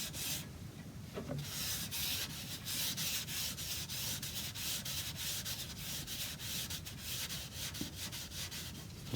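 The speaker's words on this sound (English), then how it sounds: "Just going to wipe it off with some meths." Steady rubbing of a cloth soaked in methylated spirits wiping dark polish off a wooden chair during restoration, a continuous close scrubbing texture with repeated strokes and no talk.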